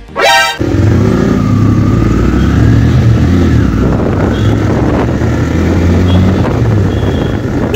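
Several motorcycles ride together in a group on a Saraswati Puja ride near Haripal, their engines droning loudly and steadily close by after a brief sharp rise at the start, with no talk heard.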